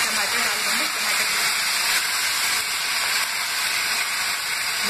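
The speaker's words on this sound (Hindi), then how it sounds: "जीरा बन चुका है, अभी हम इसमें टमाटर डाल देंगे" Tomatoes going into hot oil already crackling with cumin, bay leaf, chilli and turmeric, giving a loud, steady broadband sizzle that holds evenly throughout with no talking.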